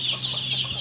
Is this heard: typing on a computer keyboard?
no